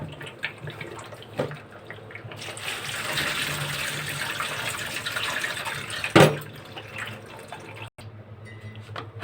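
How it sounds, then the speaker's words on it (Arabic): Tap water running over boiled potatoes in a kitchen to rinse off the starch, a steady close splashing rush with drips before and after, briefly interrupted by a louder clatter. "هنجيب البطاطس بتاعتنا بعد ما اتسلقت نغسلها ونغسلها من النشا"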